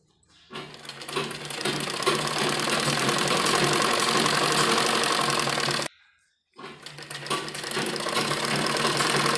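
Sewing machine stitching a seam on a baby frock, running steadily and loud for about five seconds, cutting out briefly, then starting again in a continuous mechanical whir.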